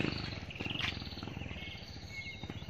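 Birds and crows calling in a town public park beside the Lam Takhong river in the morning, a dense continuous chorus of chirps and caws with steady outdoor ambience.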